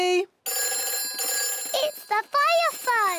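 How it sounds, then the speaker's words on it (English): A cartoon fire station telephone rings loud and close in a bright electronic trill, repeating in short bursts with brief pauses between rings. "It's the fire phone."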